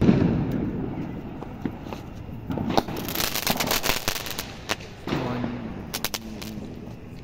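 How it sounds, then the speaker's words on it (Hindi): A small sky shot firework for Diwali is lit outdoors, giving a run of sharp crackles and pops over a few seconds, near and loud, with some background voices and noise around the bursts. "स्काई डांसर वाला ये छोटा वाला स्काई शॉट है इसको जला के देखते हैं"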